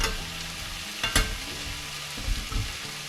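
Egg sizzling in a hot pan on high heat for leftover fried rice, a steady faint frying hiss broken by a sharp scrape and a few light stirring knocks.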